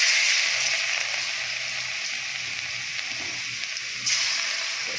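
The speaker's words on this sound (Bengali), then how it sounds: "একটু ভাজা করে নেবো রসুনটা।" Garlic fries in hot oil in a pan, giving a steady, close, bright sizzle throughout with a slight surge near the end and no talk.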